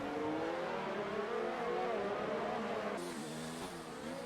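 Formula 1 cars race around the Azerbaijan circuit in a video game, with continuous high-pitched engine whine rising and shifting through gears, one car's tone changing abruptly partway through.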